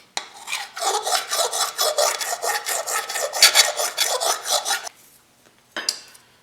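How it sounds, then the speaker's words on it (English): Flat, sturdy metal file rasping by hand over a steel motorcycle fender panel in quick, steady back-and-forth strokes for about five seconds, close and loud, then a brief pause and one last short scrape. "because the file is flat, and sturdy, it's not going to contour the panel. It's going to skate over top"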